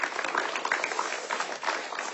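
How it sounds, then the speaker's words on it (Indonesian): Audience applause at an Indonesian Islamic talk-show gathering with a preacher: a steady, dense wash of many hands clapping that holds at an even level for about two seconds, with no talking. "Yuk tepuk tangan dulu yuk."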